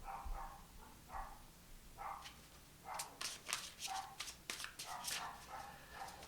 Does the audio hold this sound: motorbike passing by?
no